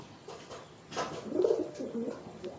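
Soft, low cooing from a young pigeon in its first moult rises in the second half, a few murmured coos close by over faint background noise.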